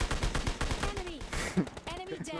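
Gunfire in PUBG Mobile Lite, rapid rattling shots in quick bursts, faint and somewhat distant, mixed with game effects and a voice speaking underneath.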